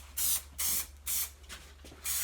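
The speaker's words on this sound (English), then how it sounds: "So just spray the glue on" Upholstery spray glue hisses from an aerosol nozzle in five short, evenly spaced bursts, close and loud, with a faint low hum underneath between sprays.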